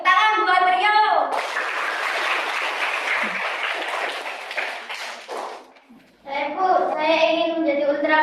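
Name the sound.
classroom clapping for a pupil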